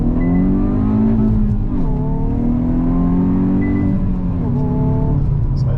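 A Hyundai i20 N Line accelerates hard from 0 to 100 km/h on an open road, heard from inside the cabin. The engine note climbs steadily through the gears, with short dips at each shift.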